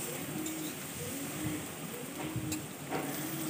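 Cucumber leaf fritters fry in oil on a low flame over a clay stove, a faint, steady sizzle with occasional stirring and birds cooing nearby.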